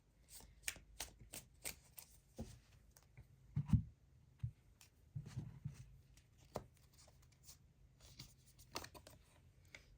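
Tarot cards being shuffled and handled on a table, irregular soft slaps and flicks with scattered clicks, close and quiet, with no talking.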